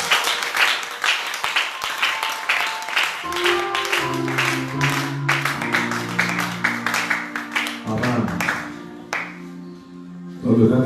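A church congregation bursts into rhythmic clapping in praise of the Lord, sharp and loud for a few seconds before sustained organ-like music and singing take over, with a voice near the end.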